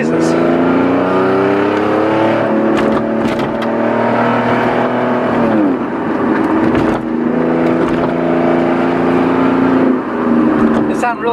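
A car's exhaust growls while driving, a loud close engine drone whose pitch climbs, dips and climbs again as revs rise and fall, with a few sharp clicks and thumps.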